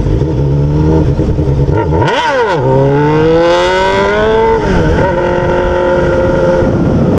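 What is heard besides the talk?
Honda Hornet motorcycle revving with open exhaust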